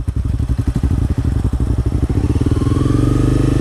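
Close, loud motorcycle engine chugging in a rapid pulsing rhythm as a new rider slowly slips the clutch and pulls away, the beat smoothing into a steadier drone.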